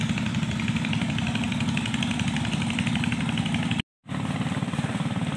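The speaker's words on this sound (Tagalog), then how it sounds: "yung maandar na yun makina" A boat engine chugs steadily and loudly at a river fiesta, a continuous close idling drone that cuts out for a moment and then resumes.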